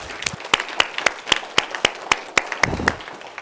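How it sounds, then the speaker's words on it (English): Sparse, evenly paced claps at a staff all-hands meeting, about a dozen crisp, separate hand claps in a steady rhythm, close and distinct rather than a full crowd roar. "Let's give that team a round of applause."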